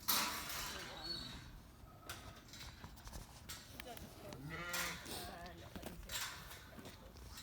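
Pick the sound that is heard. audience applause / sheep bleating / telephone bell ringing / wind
sheep bleating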